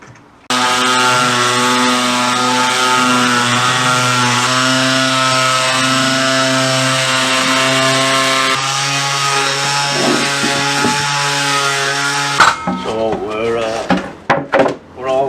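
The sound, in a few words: power sander sanding wood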